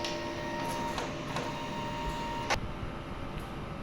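A quiet inkjet printer runs a print head cleaning cycle, giving a steady low mechanical hum with a few faint clicks and ticks spaced through it, and no voices.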